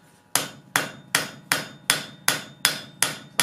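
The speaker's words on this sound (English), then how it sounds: "All I'm doing there is forging out the parts that are kind of upset near the stem of the spoon" A hammer strikes metal in a steady rhythm, eight sharp ringing blows about half a second apart, as a flux spoon is forged near its stem; loud, close and with no voices.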